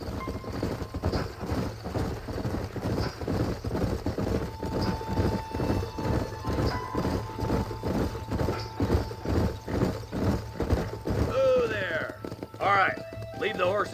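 A steady, rhythmic clip-clop of horse hooves trots along for several seconds in the video game Red Dead Redemption, with a voice speaking near the end.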